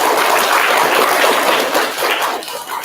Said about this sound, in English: A final round of applause brings us to the end of our award ceremony.